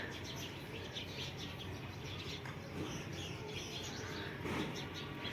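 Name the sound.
many birds chirping in the evening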